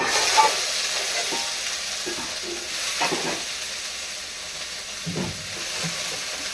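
Green chilies fry in a hot pan with a steady sizzle and hiss, broken by a few clattering stirs near the start, middle and end.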